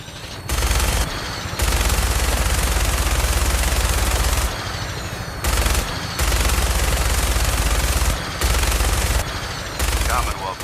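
Automatic gunfire in the video game Fallout 4 comes in long, loud sustained bursts separated by brief pauses, heavy rapid shots rattling close by with roughly four bursts across the span.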